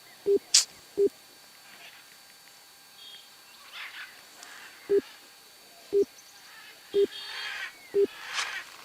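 Short low electronic beeps from a phone line sound at regular intervals of about a second, with a pause mid-way, over a quiet background, as a call to an unreachable number connects.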